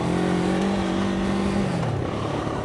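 Moto Morini X-Cape 700 motorcycle climbing a rocky, dusty hill: a loud, continuous engine drone held at steady revs that dips slightly in pitch toward the end.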